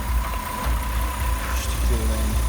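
A Toyota Camry 30 engine idles steadily with a low, even hum and a faint high whine, while a voice speaks briefly over it near the end.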